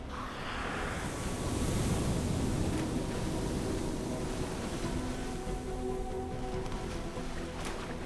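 Heavy surf rolls off the wild South African coast in rough seas, a continuous loud roar of breaking waves with wind noise throughout.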